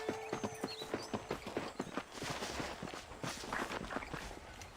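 A horse's hooves clip-clop at a steady walk in the Red Dead Redemption video game, a close rhythmic series of hollow thuds with faint ambient background and no talk.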